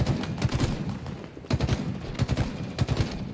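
Rapid, repeated three-round bursts from a battle rifle in the Halo Infinite shooter game, moderately loud and close over a busy, constant background of game noise.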